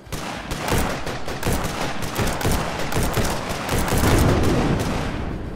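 Rapid massed gunfire from soldiers in the zombie-horde strategy game They Are Coming, dense overlapping rifle and machine-gun bursts rattling without pause, loud and close, swelling slightly toward the end with no voices over it.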